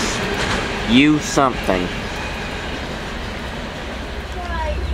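Tail end of a CSX freight train rolling past at trackside in Folkston, a steady rumble with rail noise fading as it clears, while people talk and a horn-like tone sounds briefly.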